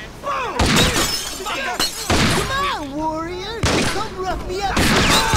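Gunfire from an action video game, with sharp bursts of shots and impacts sounding loudly and repeatedly across the clip, mixed with game effects and a voice talking over it.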